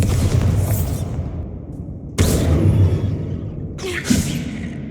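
A Bombarda blasting spell from Hogwarts Legacy goes off with a loud, deep boom and whooshing burst, followed by a second heavy blast and a smaller third pop, all rumbling close up and without speech.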